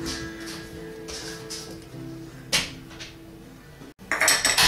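Utensils clink and scrape against a bowl while Worcestershire sauce, brown sugar and oyster sauce are combined for a Pinoy-style chicken barbecue marinade, with a louder clatter near the end.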